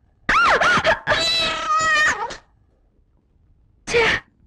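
A cat meows loudly and close by in a few drawn-out, wavering cries, then falls silent before one shorter meow follows.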